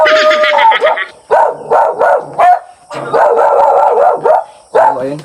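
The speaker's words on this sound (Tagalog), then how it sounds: "di natin inaasahan dito na mayroon pala ditong kaanak na aso" A small dog barks and yips loudly in close, repeated bursts, with one drawn-out howling whine at the start.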